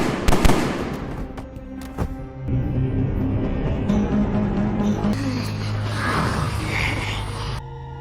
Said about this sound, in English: Suddenly, gunshots rang out.